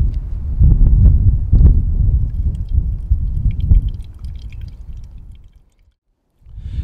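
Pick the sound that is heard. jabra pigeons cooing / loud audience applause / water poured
water poured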